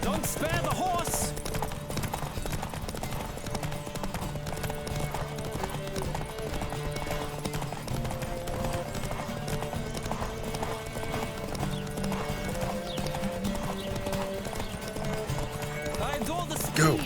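A horse galloping in a Witcher 3 race, with rapid rhythmic hoofbeats running without pause, occasional neighs, and voices over the pounding throughout.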